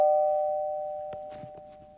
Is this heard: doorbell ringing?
yes